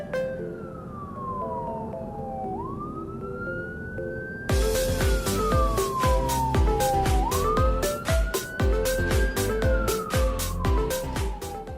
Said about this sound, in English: So as the ambulance drive past